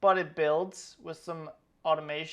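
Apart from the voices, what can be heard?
No distinct noise like a dog, phone or traffic.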